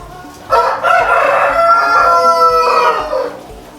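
Roosters crow loudly and repeatedly on a poultry farm, with long drawn-out calls close by over a steady background of clucking hens.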